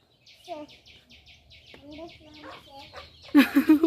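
Backyard chickens clucking in short repeated calls, fairly close, with a louder burst of squawking at the end.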